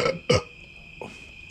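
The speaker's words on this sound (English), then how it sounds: "That was a foamy burp." A loud, foamy burp after drinking beer, two throaty bursts close together and then a softer third one, heard alone against a faint steady background hum.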